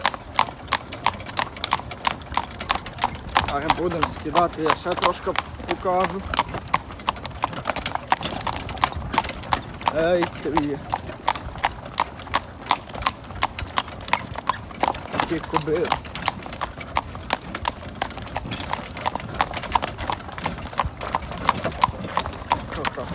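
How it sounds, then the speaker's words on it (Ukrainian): Draft horse hooves clip-clop in a steady, brisk rhythm on a hard road, close by, while someone talks and calls out over the hoofbeats. "цокає файно по дорозі"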